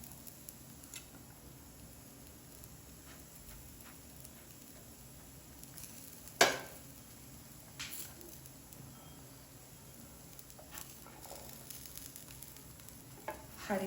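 Semolina (soji) tacos roasting in a pan with a spoonful of ghee or oil give off a faint, steady sizzle that runs throughout, with a sharp clack around the middle and a few softer knocks later.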